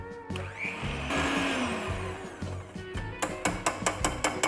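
An electric mixer whirs steadily as it blends flour into batter for a chocolate and vanilla marble cake, the motor hum swelling midway before giving way to a run of sharp, rhythmic taps near the end.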